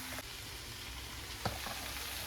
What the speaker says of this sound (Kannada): ಚುಮ್ಮರಿ ಹಾಕಿ ಚಲೋ ಹೊತ್ತಲ್ಲಿ ಮಿಕ್ಸ್ ಮಾಡ್ತೀನಿ ರೀ